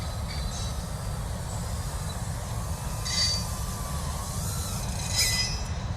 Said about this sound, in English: Sorry about the noise again. Trains are not the quietest things